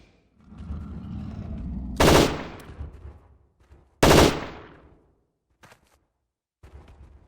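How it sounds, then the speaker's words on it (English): Machine pistol fire in the video game Jurassic Park: Trespasser comes in two loud, sharp bursts with decaying echoes, then a few faint clicks and thuds. "Now we've got to use this rubbish machine pistol, and this is probably not going to do much at all."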